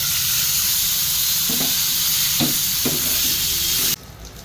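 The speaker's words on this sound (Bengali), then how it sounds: "এইভাবে আমি সব মাছগুলোই ভেজে নেব" Pieces of bata fish fry in hot oil in a pan with a continuous loud sizzle, broken by a few soft knocks of stirring, before the sizzling cuts off abruptly near the end.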